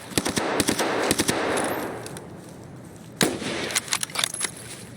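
Rapid automatic gunfire in the Escape from Tarkov shooter game: loud, close bursts of sharp cracks, a dense volley at the start, a short lull, then another cluster of shots, with no talking.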